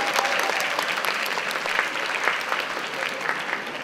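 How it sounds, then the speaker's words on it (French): Audience at a cosplay convention contest applauds in a sustained, fairly close burst of many hands clapping, dense and even with crisp individual claps standing out throughout. "je pense qu'on peut l'applaudir pour l'effort."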